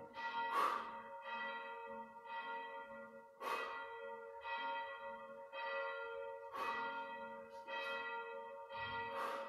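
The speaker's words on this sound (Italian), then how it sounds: "Le campane non sbagliano mai." Church bells ring at six o'clock in a slow, repeating series of resonant strikes, each tone ringing on and overlapping the next, moderately distant and with no voices.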